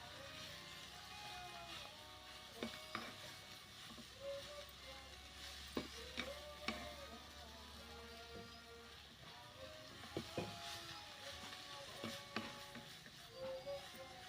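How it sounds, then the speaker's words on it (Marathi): Fenugreek greens being stirred and sautéed in a pan over a wood-fired stove, with a soft steady sizzle and scattered scraping stirs, faint and close, no talk. "भाजी परतून घेऊया."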